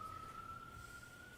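A steady, faint siren wails outside a courtroom, holding one even tone throughout with no voices over it.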